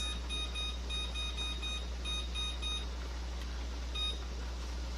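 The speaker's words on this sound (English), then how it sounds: "we're gonna set our timer for 10 minutes" A kitchen timer beeps as it is set for canning homemade ketchup, giving a quick run of short, bright electronic beeps with brief pauses and a final lone beep over a steady low hum.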